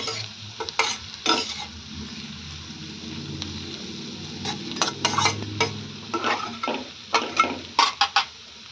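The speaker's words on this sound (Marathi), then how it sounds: "मी मिरची याच्यामध्ये छान मिक्स करून घेते" Green chili being stirred into bitter gourd cooking in a pan: repeated loud scraping strokes of a spoon against the metal over a low sizzle, in irregular bursts that cluster faster toward the end, close by.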